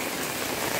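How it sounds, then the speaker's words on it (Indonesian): Heavy rain with strong wind pours around a house, a dense, steady hiss filling the short moment with no pause. "aku ngevlog di hujan-hujanan."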